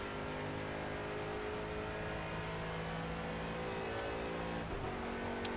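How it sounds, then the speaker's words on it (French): An Aston Martin race car in the racing game Project CARS accelerates, its engine a loud, continuous, steadily rising drone throughout with no talk. "la voiture est chaude et c'est parti"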